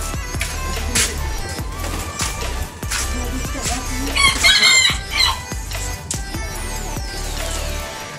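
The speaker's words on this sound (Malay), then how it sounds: "Best je dengar bunyi ayam berkokok kan." A rooster crows loudly partway through while hens cluck and other birds chirp around it, at a hotel in Johor Bahru.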